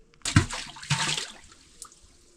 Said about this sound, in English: You heard the water from this angle, but the borehole is, it's deeply,